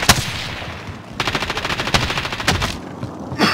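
Rapid automatic gunfire in a Warzone battle, loud bursts of machine-gun fire with single sharp shots at the start and end and a sustained volley through the middle.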